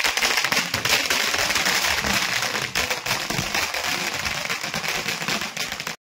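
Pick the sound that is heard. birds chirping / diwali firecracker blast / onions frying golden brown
diwali firecracker blast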